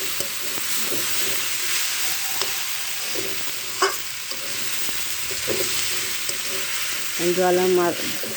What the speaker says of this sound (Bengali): জল আর নেই, আস্তে আস্তে শাকটা ভাজা হয়ে যাচ্ছে